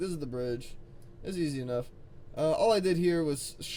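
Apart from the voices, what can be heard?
No everyday noise stands out behind the speech.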